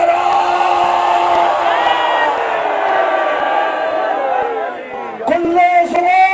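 A large crowd at a religious gathering chants a slogan (naara) in unison, a loud sustained roar of many voices that swells, fades, then rises again with new shouts.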